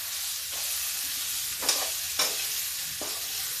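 Ridge gourd (taroi) peel fries in hot oil with a constant loud sizzle, broken by three or four scraping strokes of a spatula as it is stirred.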